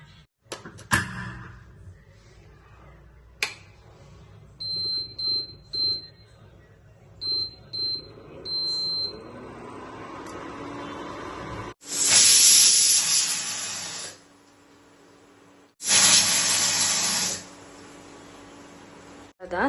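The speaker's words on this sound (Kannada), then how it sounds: "ಇದನ್ನ ಈಗ ಮುಚ್ಚಿ 2 ವಿಷಲ್ ಕೂಗ್ಸೋದ" A pressure cooker holding kara pongal lets out two long, loud, hissing steam whistles near the end, after a stretch of quieter kitchen clatter and a few short electronic beeps.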